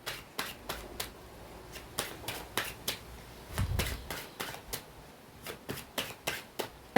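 Tarot cards are shuffled and cut by hand in a quick series of crisp, close riffles and soft slaps, fairly even in rhythm, with a brief duller thump midway and no talking.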